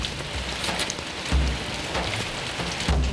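Steady rain falls on an outdoor surface as a constant, dense hiss with a few low thumps, continuous and fairly loud with no voices.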